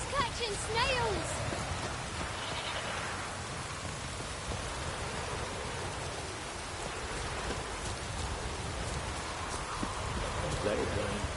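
Steady, faint rain hisses as a continuous wash in a PS4 video game, with a few brief sounds popping through the downpour.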